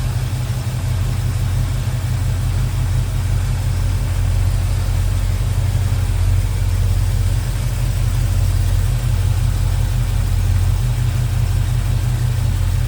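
A 1986 Chevrolet K10 Silverado regular cab long box pickup with headers idles steadily, its low, even engine rumble close and continuous with no speech.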